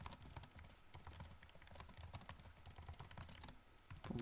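Fingers type text on a computer keyboard in a document editor, producing a steady run of quiet, close key clicks with brief pauses between bursts and no voices.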